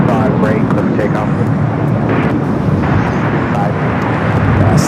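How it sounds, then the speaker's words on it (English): Boeing 787 Dreamliner arriving from London Heathrow touching down on runway 25 left at LAX, a loud sustained jet roar and rumble with air-traffic radio chatter audible over it. "This is that Dreamliner that came in from London Heathrow, touching down to 25 left"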